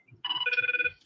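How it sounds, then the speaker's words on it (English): A short, rapid electronic trill rings once, buzzing in quick pulses for under a second. "Oh, shut up, phone."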